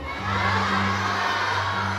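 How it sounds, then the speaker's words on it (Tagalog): A crowd of visitors at a safari park in Cebu calling out a greeting together to a green-winged macaw, a loud burst of mixed shouting voices with a steady low hum underneath. "Now everyone, can you wave back and say, hello Jumbo?"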